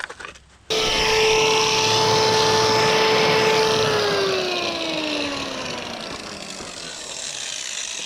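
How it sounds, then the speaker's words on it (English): A grinder fitted with a grinding stone spins up sharply and holds a loud, steady whine, then its pitch slowly drops while the grinding continues, close by and without talk. "So now I'm gonna switch to the grinding stone."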